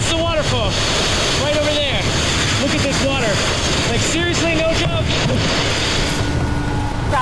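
Floodwater rushes past close to a waterfall in a steady, loud roar with heavy wind noise, while a voice briefly speaks over the torrent.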